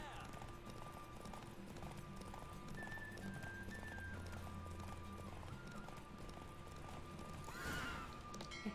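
Horse galloping in a race in The Witcher 3, rapid rhythmic hoofbeats running throughout, fairly quiet, with sustained musical tones and a brief swishing burst near the end.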